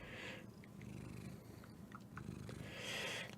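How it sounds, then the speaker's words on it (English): A cat purrs close by, a continuous soft rumbling that swells and fades with its breaths, with a few small clicks and rustles over it. "I just heard purring"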